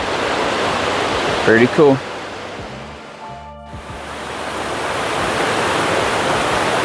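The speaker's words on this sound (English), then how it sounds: "So this is the Towa Creek Cascades." Towa Creek Cascades, a waterfall emptying into Bradley Fork, gives a loud, steady broadband rush of falling water close by, briefly dipping midway, with a short spoken comment near the start.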